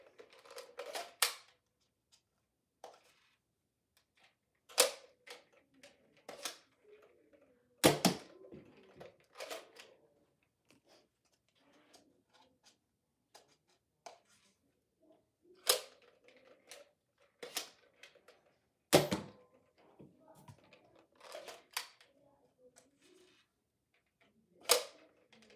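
A Nerf Fortnite Flare blaster shoots foam darts, giving about eight sharp, close snaps spaced a few seconds apart, each followed by quieter clicks and handling noises of reloading in between.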